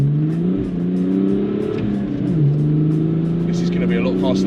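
A BMW E92 330d diesel coupe accelerating hard at full throttle, its engine note rising steadily and dropping briefly at gear changes, loud and close from inside the car.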